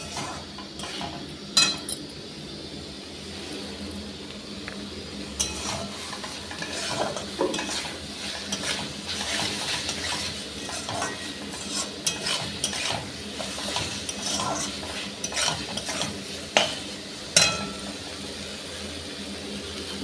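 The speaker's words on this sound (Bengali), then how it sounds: "মশলাটা ভালো করে কষে নিই।" Spice paste stir-fried in a pan for a cauliflower, potato and fish curry, continuous close sizzling with a utensil scraping and stirring, punctuated by occasional sharp metallic clinks against the pan.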